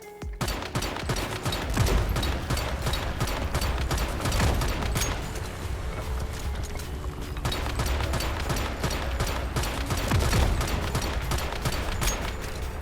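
Continuous rapid gunfire with copper ammo in the video game Once Human, dense fusillade of shots running steadily throughout with heavy low rumble and booming impacts.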